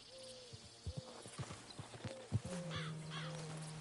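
Horse in Red Dead Redemption 2, a run of close hoof clip-clops on hard ground, followed by a snorting whinny toward the end, with a faint crow call in the background.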